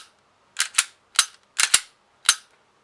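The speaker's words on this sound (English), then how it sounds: "We're going to rack it." Sharp metallic clacks from racking the slide of a Springfield Hellcat pistol, heard close up as several short separate snaps, some in quick pairs, with silence between them.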